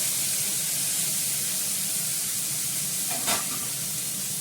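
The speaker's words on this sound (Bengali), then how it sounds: "সবার আগে আমি টমেটো, ক্যাপসিকাম, গাজরটা একটু হালকা করে ভেজে দেবো" Tomato, capsicum and carrot lightly frying in a pan, a constant bright hiss and sizzle held close, with one short spatter burst near the end and no talking.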